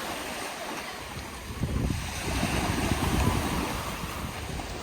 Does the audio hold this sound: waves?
yes